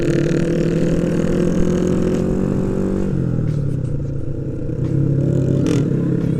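Motorcycle engines on a group ride of Honda Supra KPH and MX bikes, a loud steady droning rev with shifting pitch as the throttle eases and rises again, close and continuous with no talk.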